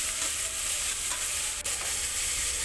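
Chopped onion frying in oil in a pan while dal is being made, giving a steady close sizzle with light stirring scrapes throughout and one brief sharp knock near the middle.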